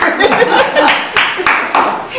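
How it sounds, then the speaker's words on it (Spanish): Clapping from a small group at an 84th birthday party in Santa Rosa, La Pampa, several uneven bursts of hand claps mixed with talk and a little laughter. "un aplauso"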